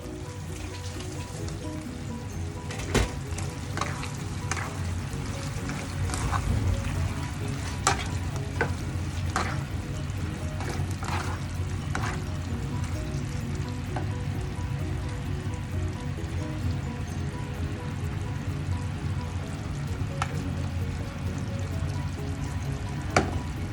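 Chicken adobo with liver, gizzard, brown sugar and pineapple simmers in a pan, giving a steady close sizzle and bubbling with occasional clicks of stirring and no talking.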